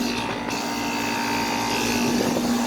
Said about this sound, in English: that compressor sounds like it's really exhausted